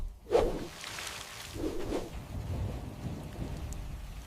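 Rain falls steadily through a rainforest canopy, a soft continuous patter with a sharp close crack near the start and low rumbling swells, like distant thunder, later on.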